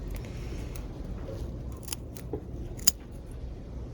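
A snip through an oozing, liquid-filled succulent stem, one short sharp click standing out from low room rumble, with a couple of fainter handling taps before it.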